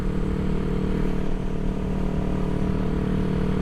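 A 1975 Honda CB360T motorcycle cruises at steady speed with a continuous, even engine drone and road rumble, close and loud, without pauses or talk.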